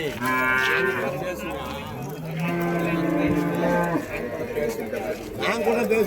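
Cattle at a busy rural cow market in Vaniyambadi, Tamil Nadu, low drawn-out moos from nearby animals, with people talking over and around them.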